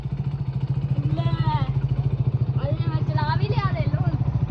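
A motorcycle engine runs with a fast, regular low chugging pulse that continues unbroken from start to finish, while people talk over it.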